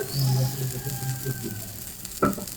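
Batter snack frying in a pan, giving a steady, moderately loud sizzle and hiss, with a short metallic clink near the end.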